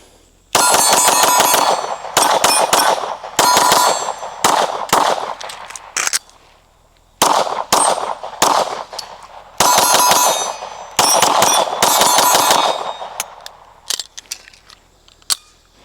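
Rapid strings of pistol shots from a ported CZ P-10C, each crack followed by the bright metallic ring of an 8-inch steel gong and a steel plate rack, fired in several fast bursts with short pauses between.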